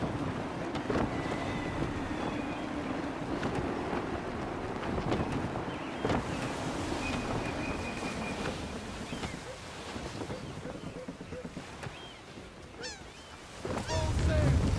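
Wind and ocean surf rush steadily around a sailing ship running under full sail in the video game Assassin's Creed 3, with creaking rigging and water wash and a louder swell of waves near the end.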